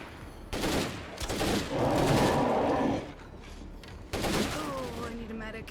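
Gunfire from the zombie survival game State of Decay 2 breaks out in loud bursts over a few seconds, a sustained barrage in the middle, with voices talking over parts of it.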